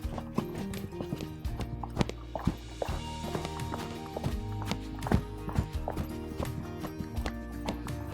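A horse is asked for the canter, and its hooves strike the ground in a fast, uneven rhythmic clip-clop that is fairly close, with snorting breaths between the strides.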